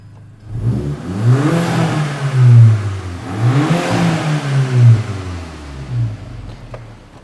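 Two loud revs from a nearby Mk6 Golf GTI Edition 35 with an upgraded, deep, rumbling exhaust, each rising sharply and dropping back, followed by a smaller blip.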